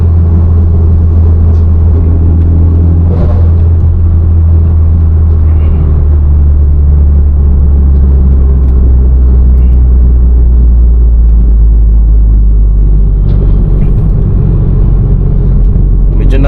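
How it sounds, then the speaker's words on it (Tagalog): A loud Honda City engine rumbles steadily while driving on an expressway, with brief popping bursts marking gear changes; speech-like murmur mixes faintly into the constant low drone. "yung ingay pumuputok siya sa bawat shift ng gear"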